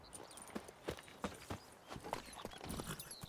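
Horse hooves in The Witcher 3 video game, quiet rhythmic clip-clop of a horse running on the ground, repeated steady thuds at a fast pace, faint and alone.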